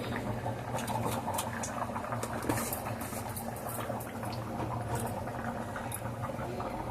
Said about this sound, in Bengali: আমি এবার ঢাকনাটা তুলে দিয়েছি, কত সুন্দর ফুটছে